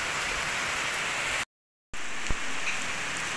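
Steady heavy rain from a typhoon hisses on surfaces, cut by a brief moment of silence before the downpour resumes with a single knock.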